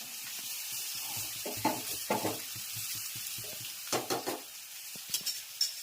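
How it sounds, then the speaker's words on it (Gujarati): Patra, a Kathiyawadi-style steamed leaf roll, crackling in a hot tempering: a close, steady sizzle broken by sharp spitting pops and a few utensil knocks, with no speech. "મસ્ત મજાનો વઘાર પાત્રાનો થઈ રહ્યો છે જોઈ શકો છો"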